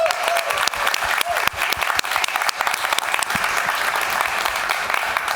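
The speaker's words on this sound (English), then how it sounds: "give them even warmer round of applause to our panelists" A conference audience applauds its panelists after a discussion on decentralized communities, a dense, steady wash of many hands clapping that carries through the whole stretch without pause.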